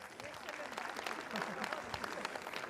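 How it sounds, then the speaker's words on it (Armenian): An audience at a gala concert for a town's 60th anniversary applauds in a steady wash of clapping, with a voice speaking over it throughout. "խնդրում եմ իրենց էլ բարձր ծափարեն"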